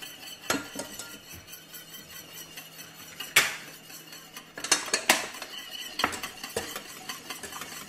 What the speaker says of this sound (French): Et on va monter notre sauce avec des petites parcelles de beurre. Donc là sur les 120 g de beurre. Et on fouette.